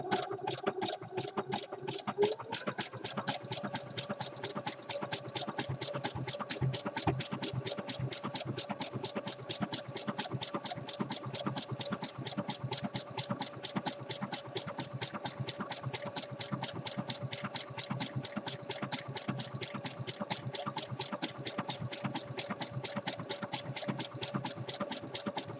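Sewing machine stitching fold over elastic onto the raw edges of a jockstrap pouch, a steady, fast mechanical whir with dense rapid needle clatter running continuously, close and loud, after a brief slower start.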